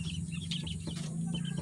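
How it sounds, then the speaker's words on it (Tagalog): Young Texas breed chicks being raised on a farm, clucking and peeping softly in a short close burst over a steady low background hum. "Yung mga inaalagaan na sisiw na Texas."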